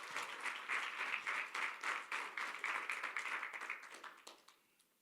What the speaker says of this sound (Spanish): Dale un aplauso al Señor si lo crees,